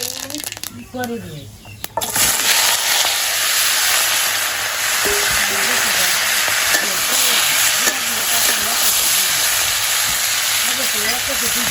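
Mustard seeds tempering in hot oil in a pan for a village-style pea curry, a steady close sizzle and fry running throughout with a few stirring scrapes, while someone talks over it.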